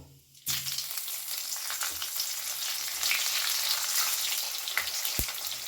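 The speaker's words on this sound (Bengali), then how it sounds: "এবারে আমি একে একে পুর ভরা শিমগুলো দিয়ে দেব" Stuffed flat beans dropped into hot oil with cumin over a low flame set off a sudden, steady sizzle that keeps crackling and spitting close by, with one sharp clink near the end.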